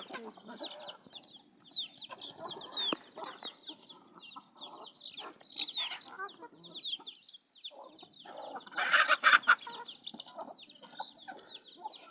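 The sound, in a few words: chickens clucking on a poultry farm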